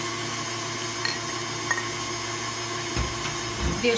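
An electric hand mixer beats orange cake batter, giving a steady, even motor whine with a few faint knocks against the bowl.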